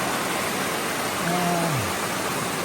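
Constant loud roar of rushing water from a waterfall swollen by heavy rain, with a brief faint tonal sweep in the middle and no clear speech.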